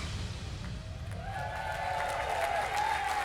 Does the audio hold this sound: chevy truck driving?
no